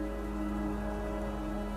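Steady rain falls at night on a forest clearing near a landing pad, a dense, even hiss with a low rumble underneath, continuous and close, with no voices.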